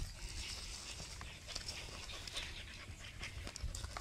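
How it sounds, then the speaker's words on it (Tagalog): A dog panting near a river, quick, faint breaths repeating in a steady rhythm close by, with soft rustling and light background noise. "Ito yung aso ko na si Bonso."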